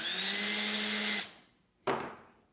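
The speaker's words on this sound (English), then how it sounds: "So what we'll do is we'll take the tube, put it in our drill," An electric drill spins a tube clamped gently in its chuck to flare the tube's ends, a close whining motor hum that winds down and stops, then a short burst of spin.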